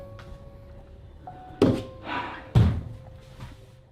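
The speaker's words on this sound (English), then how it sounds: "you might have missed the doorknob moving just before the door opened on its own" Door opening on its own in a dark home, with two sharp thunks about a second apart, a faint scrape between them and quiet low rumble behind.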